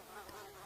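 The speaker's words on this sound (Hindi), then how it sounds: "इन मच्छरों ने गर्मी में काट काट कर सारा खून पी ही लिया है।" A cartoon sound effect of mosquitoes buzzing in summer heat: a faint, thin, continuous whine hovers steadily for under a second with no voices over it.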